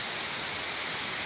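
A brief stretch of heavy downpour in Karachi, a constant close wash of rain noise with no talking.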